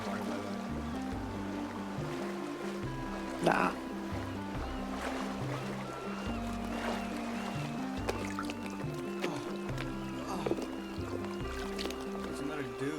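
A character sprints through water in the survival game Sons of the Forest, giving steady splashing and sloshing under continuous game music, with a spoken word heard briefly.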